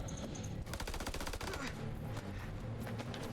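Rapid machine-gun fire in the video game House of Ashes rattles loudly in fast, continuous bursts, then thins into scattered shots and combat noise.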